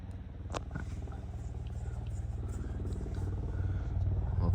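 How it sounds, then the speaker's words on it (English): Helicopter flying over Snowdon, a low, steady rotor rumble and throb that slowly builds in loudness as it draws nearer, with no talking over it. "I don't know if you can see this, but that is a helicopter."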